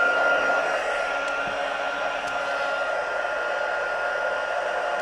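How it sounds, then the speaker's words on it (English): Heat gun on high, warming embossing powder on a card, giving a steady, close blowing hiss that runs unchanged throughout with faint small clicks. "I'm warming up my heat gun onto high speed, and I'm just going to heat it up."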